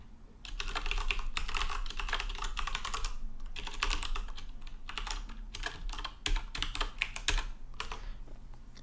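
Close, quiet computer keyboard typing as code is written, bursts of rapid key clicks separated by short pauses, with no talk.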